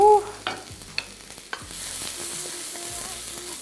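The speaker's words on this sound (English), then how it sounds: "Now I'm gonna add the garlic and ginger." Garlic and ginger hit hot oil in a wok for a stir-fry, giving a soft sizzle with a few sharp utensil clinks and scrapes, then a steady hiss of frying.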